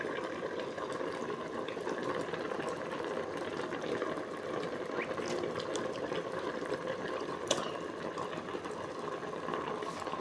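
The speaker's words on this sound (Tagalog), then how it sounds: "Kulong-kulo na guys." Tuna broth for ginataang tulingan boils in a pot with a steady bubbling, simmering wash, close and moderately quiet, with occasional small pops and no talk.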